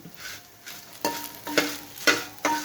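Onions being stirred and fried in a pan for a bitter gourd (karela) fry, a soft continuous sizzle punctuated by four or five louder scraping stirs spaced about half a second apart, close and without talk.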